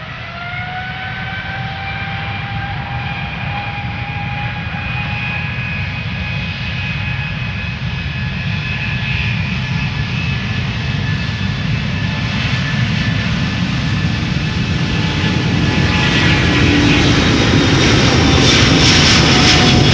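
An Embraer 190 jet taxis close by at Amsterdam Schiphol Airport, its engines a loud, steady roar with a whining tone. The roar swells gradually over the whole stretch as the aircraft draws nearer, with no talk.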